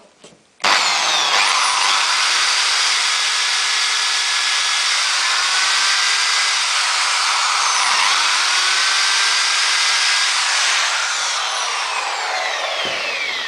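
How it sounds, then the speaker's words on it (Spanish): Power drill countersinking wood with a conical or spherical bit for a homemade mosquito trap, a loud continuous whirring grind close up that starts abruptly and runs steadily for about twelve seconds. "vamos a hacer un avellanado con una fresa, ya sea cónica o esférica"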